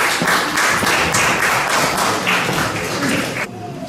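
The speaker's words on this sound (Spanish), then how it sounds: "Un fuerte aplauso para ellos" Audience clapping steadily and fairly loudly in a hall at a literature doctoral students' colloquium, welcoming a panel of women writers, the applause fading abruptly near the end.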